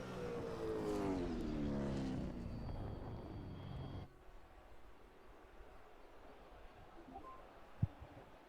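A race car leaves the pits at Bathurst to begin its out lap in 2019 qualifying, its engine rising in a loud, sweeping pass that fades after a few seconds into distant low rumble, with one sharp knock near the end.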